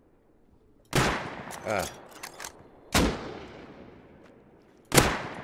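Three loud, sharp gunshots ring out in Rust at a large oil rig, spaced a second or two apart. Each crack decays into a short tail, with brief mechanical clatter and a short exclamation in between.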